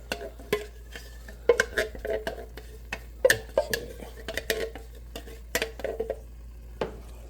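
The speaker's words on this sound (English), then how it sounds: "now I'm just going to stir those in" Spoon stirring ingredients into chicken parm sauce in a pot: repeated scraping knocks and clinks against the pan in an uneven rhythm, close and moderately loud over a low hum.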